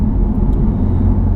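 A BMW M4 Competition Package engine rumbles loud and close, a dense, steady low growl that holds without a break and with no talking over it.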